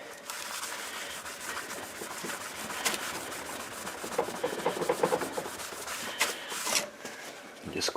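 Close, steady scrubbing on a ghost trap prop sideplate to lift off residue, dense rhythmic rubbing strokes that quicken and grow louder toward the end, with no voice over it.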